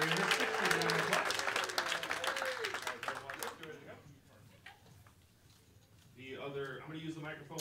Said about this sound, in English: Let's give Larry a 6 seat round of applause.